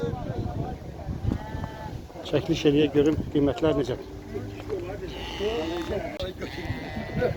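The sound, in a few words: sheep bleating at livestock market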